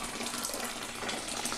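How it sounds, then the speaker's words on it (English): Boiling water pours steadily from a kettle into a home-brew mixture in a fermenting vessel, a continuous close splashing hiss with no talk over it. "I'm adding a second kettle full of boiling water."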